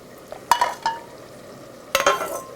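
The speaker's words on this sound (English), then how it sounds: "I'm going to put half of it in there." Two short bursts of clatter and splashing as hot simmering stock is poured into a pot of pumpkin risotto with bacon, with a quiet pause between them.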